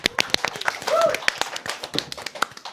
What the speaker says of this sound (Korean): 물개 박수 한번 때리겠습니다.